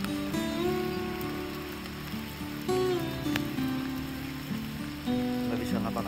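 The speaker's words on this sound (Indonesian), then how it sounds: "Hujan makin besar." Rain falls steadily on a tent at a lakeside campsite at Ranca Upas, Ciwidey, south of Bandung, as a continuous, fairly faint patter with muffled tonal sounds and voices beneath it.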